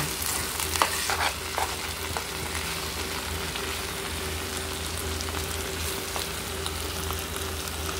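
Tofu sisig with chicken sizzles steadily in a frying pan while being stirred, giving a close, even crackle with a few louder scraping stirs near the start.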